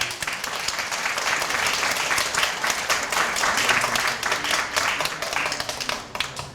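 Wedding guests at a ceremony break into sustained applause, dense and steady throughout before easing off slightly at the very end.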